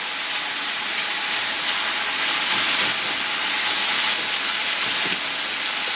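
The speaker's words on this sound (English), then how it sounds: "Same thing for the onions. I'm just going to sweat them down" Onions sweat in a pan for braised spicy balsamic chicken, giving a steady, soft, continuous sizzle that holds an even hiss throughout, with no voices.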